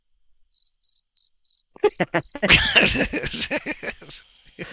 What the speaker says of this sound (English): Ooh, them's fight crickets.